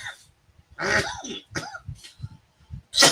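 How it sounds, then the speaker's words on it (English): A few rough coughs and throat clearing bursts, close and fairly loud, separated by brief pauses, ending with a sharp hacking cough. "I'm just coughing"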